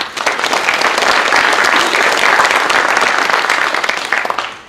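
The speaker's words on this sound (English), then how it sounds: "so a round of applause for them" Loud, dense applause from an audience at a 2024 senior academic awards ceremony, steady and sustained for several seconds before tapering slightly at the end.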